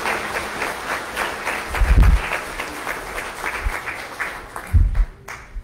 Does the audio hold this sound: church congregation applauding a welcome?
yes